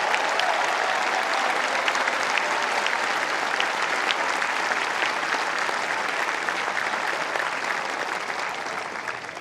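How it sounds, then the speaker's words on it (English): A stadium crowd at a professional tennis trophy presentation applauds volunteers and ball persons, sustained dense clapping from many hands that holds steady and eases slightly toward the end. "I hope everyone will give a big round of applause for all those volunteers and ball persons."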